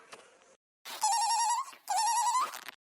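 A telephone rings twice in electronic trilling bursts, loud and close, after a short faint sound at the start.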